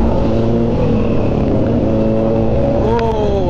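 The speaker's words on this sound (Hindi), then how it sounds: "अलियान की बाइक की साउंड चेक करो यार, साउंड देख लो" A Kawasaki Ninja motorcycle engine runs steadily and loudly up close, its pitch rising as it revs near the end.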